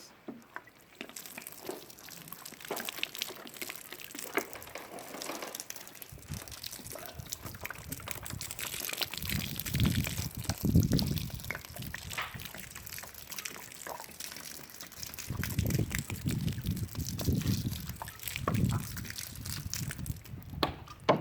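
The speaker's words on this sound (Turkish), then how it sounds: "şimdi ektiğimiz sarımsakların üzerine can suyunu veriyoruz" Water poured over freshly planted garlic in a garden bed, a soft continuous trickle and splash that swells louder in two longer pours, near and moderately quiet, with no talk.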